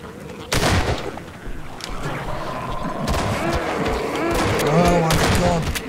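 Gunfire in the Half-Life 2 video game during the Ravenholm escape, with a few sharp shots around an ongoing game soundscape and excited voices talking over it.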